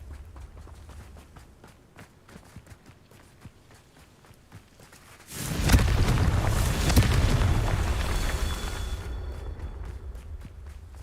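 A Confringo blasting spell from Hogwarts Legacy erupts suddenly after light footsteps, a loud close explosion with a deep booming body that roars and crackles for several seconds before fading.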